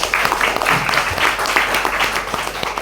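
An audience at an academic workshop on book chapter writing breaks into applause, a loud, dense wash of many hands clapping steadily throughout.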